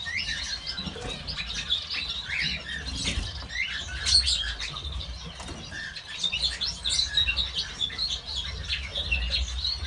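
Many small birds in an aviary chirping and tweeting busily at close range, with some wing flutters and rustling, no voices.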